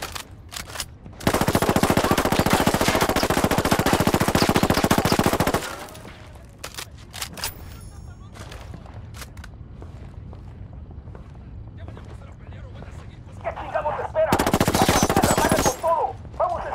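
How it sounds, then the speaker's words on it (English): Bursts of rapid machine gun fire ring out during a shootout in Ghost Recon Wildlands, a long sustained volley followed by scattered single shots and then another loud burst, with voices talking in between. "Open fire."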